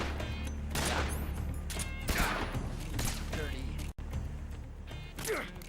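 Gunshots are fired at Ocelot in Metal Gear Solid 3 on PS2, sharp cracks repeating over game sounds and music, with a player speaking over the action.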